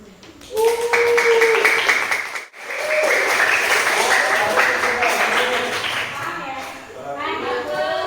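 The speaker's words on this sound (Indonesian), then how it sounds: "Ya, berikan aplaus dulu" A classroom group claps together in sustained applause for several seconds, with a brief dip midway before the clapping resumes and gradually thins out, voices mixed in throughout.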